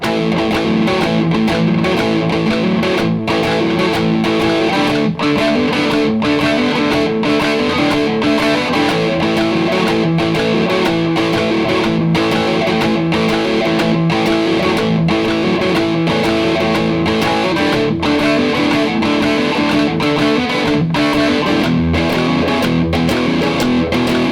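Electric guitar with a gritty, distorted tone playing a song's verse in strict time against a backing beat, steady and loud throughout with regular rhythmic accents.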